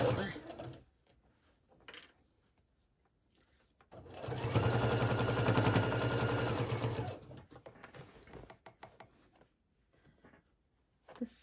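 A sewing machine runs in a steady stretch of rapid stitching through Christmas tote fabric, with short starts and stops before and after, and faint talk in the quiet gaps.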